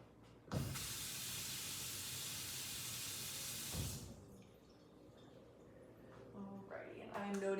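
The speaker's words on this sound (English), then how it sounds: "I'm going to go ahead and wash my hands" Running tap water pours steadily into a sink as hands are washed in a clinical exam room, a loud broadband hiss for several seconds that cuts off, followed by quieter handling sounds.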